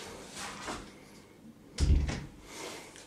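An interior door closes in a kitchen-living room of a show apartment, giving a single low thud around the middle of the clip, close and moderately loud, with quieter handling sounds before and after.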